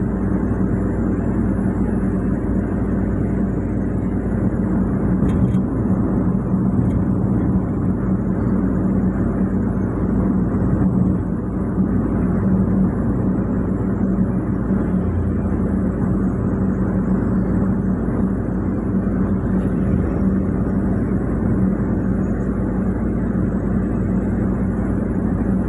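Heavy trucks labor slowly up a long grade on the Cipularang toll road, a steady, loud drone of engines and tires that holds without a break and carries no talk.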